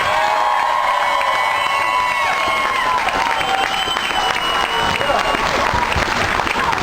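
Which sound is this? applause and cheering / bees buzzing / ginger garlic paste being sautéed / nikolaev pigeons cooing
applause and cheering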